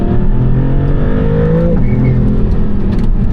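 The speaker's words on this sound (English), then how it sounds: "I love those turbo noises." A loud, steady Maserati GT2 Stradale engine drones at close range with whining, rising turbo tones over a constant mechanical roar.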